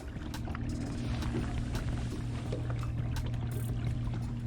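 A 2021 Ranger Z520L boat motor accelerates, droning steadily with a low hum and churning water, staying loud and constant throughout.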